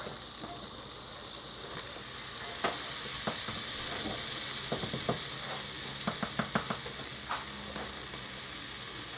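Flour being stirred into melted butter in a pan on the stove, a soft, quiet sizzle running steadily under scattered clicks and scrapes of the spoon against the pan.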